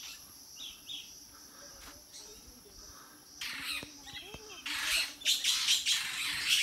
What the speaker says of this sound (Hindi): ये चिड़ियों की सुबह सुबह चहचहट